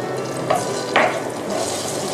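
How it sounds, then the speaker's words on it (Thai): Thai curry paste sizzles in vegetable oil in a wok, with a steady close fry and a couple of short scraping stirs from a metal spatula, no talking. "เราก็จะผัดเครื่องแกงนะคะให้หอมใช้ตะหลิวนะคะค่อยๆกระจายน้ำพริกแกง"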